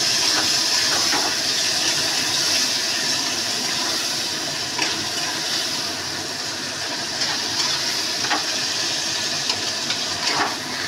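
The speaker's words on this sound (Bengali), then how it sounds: "এই গ্রেভিটা একটু ভাজা হোক" Onions with a little sugar fry in a pan for a gravy, giving off a continuous, fairly loud hiss of sizzling oil with faint scattered pops and no voices.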